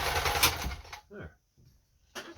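A Kenmore 10 Stitch sewing machine stitches a bar tack at the bottom of a buttonhole, giving a loud, close burst of rapid mechanical whirring before stopping, then starting again briefly at the end, with a voice speaking in between.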